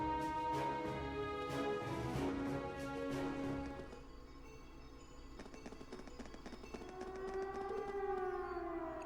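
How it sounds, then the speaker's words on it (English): A wailing civil-defense-style siren rises and falls from a distant fort in the video game Trails of Cold Steel, sounding over game music and background effects, with the sustained tones sweeping upward toward the end. "It sounds like a siren. Seems like it's coming from the fort."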